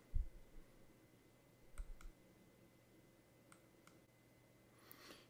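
A computer mouse double-clicks to launch an application, giving a few quick, faint clicks against a quiet background, with a pair of close clicks near the middle and another brief one at the end.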